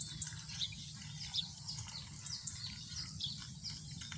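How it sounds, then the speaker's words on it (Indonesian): Faint birds chirp across rice paddy fields in the morning, with scattered short high tweets over a low steady rumble of distant background noise. "banyak burung-burung"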